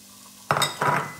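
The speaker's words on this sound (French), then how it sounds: "Je fais revenir le tout pendant quelques minutes, tout en remuant de temps en temps" Onion pieces, ginger and garlic hit hot oil with mustard and fennel seeds, breaking into a sudden loud sizzle with stirring scrapes in two close bursts after a quiet start.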